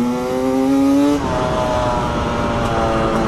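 A 250cc enduro motorcycle engine screams at high RPM close by, a loud sustained rising whine that drops sharply as the rider shifts gear, then holds a steady, lower drone.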